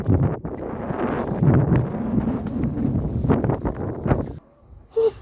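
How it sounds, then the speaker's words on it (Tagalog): Strong wind in a snowstorm on Svalbard buffets the microphone with loud, rough gusts that rumble for several seconds and then drop away suddenly, followed by a brief sharp burst near the end. "At ito nga ako habang nakikipaglaban sa hangin at mga snow."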